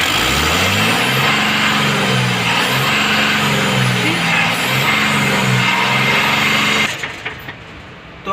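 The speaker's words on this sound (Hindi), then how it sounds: "जैसे हम रेस मारते हैं यहाँ से धुआं निकल रहा है" A truck engine with a fault code for high SCR intake temperature, blowing black smoke, revs loudly up and down in several rising and falling surges, close and steady, then drops away abruptly near the end.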